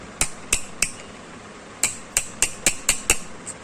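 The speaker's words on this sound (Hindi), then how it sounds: "पेचकस लेना है और पेचकस से ये पेपर्स के ऊपर रख के" A screwdriver is tapped against insulation papers to drive them into the slots of a 1 HP domestic water pump motor being rewound: three sharp metallic clicks, a pause, then a quicker run of about seven, the last one fainter, close by and with no talk.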